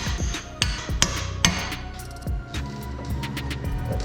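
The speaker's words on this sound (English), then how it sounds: "You're gonna shove this right in here, and you're just gonna start tapping." A pickle fork is tapped with a hammer to separate an outer tie rod on a 2001–2010 GM/GMC Duramax truck, giving several sharp metallic strikes with ringing tails, close and loud.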